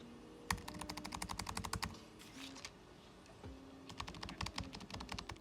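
Rapid, muffled typing on a MacBook Pro keyboard fitted with a keyboard cover, in two bursts separated by a short pause, the keystrokes soft and dampened rather than sharp clicks.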